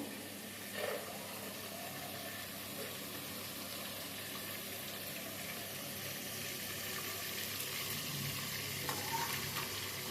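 Cashews frying in oil in a pan with cardamom for pulao, a continuous close sizzle with faint stirring scrapes, steady throughout and no voices.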